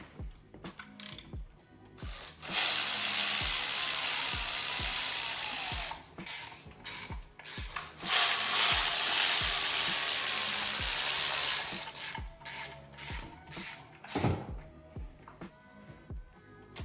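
A ratchet wrench loosening bolts on a BMW S58 race engine, fast buzzing clicks in long runs broken by pauses and slower individual clicks, loud and close with no speech.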